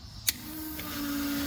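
An aircraft fuel boost pump switches on with a click, then runs as a steady, faint electric whine that slowly builds.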